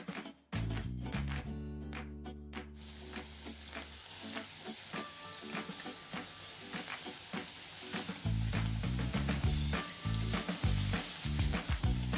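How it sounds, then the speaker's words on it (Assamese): Steady sizzling and crackling of dhekia fern pakoras frying in hot refined oil, continuous and close, with clinks of a utensil and some background music throughout. "তো এতিয়া মই ধুনীয়াকৈ তেলত ভাজি ল'ম।"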